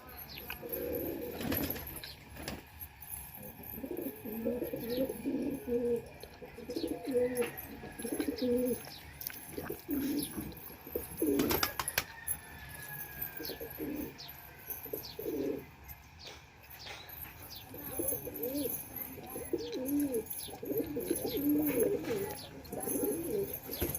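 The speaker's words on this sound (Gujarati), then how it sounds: "બધા કબૂતર તડકી ખાઈએ જોવો" Pigeons in a breeding loft coo repeatedly in low, rolling phrases close by, with occasional chirps and wing flaps around them.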